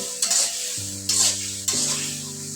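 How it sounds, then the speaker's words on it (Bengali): A spoon stirs a bowlful of kidney beans (rajma) in a frying pan, three scraping strokes over a constant sizzle, with a droning tone running underneath. "দিয়ে দিলাম 1 বাটি পরিমাণ রাজমা। দিয়ে একটু নেড়ে চেড়ে নিচ্ছি।"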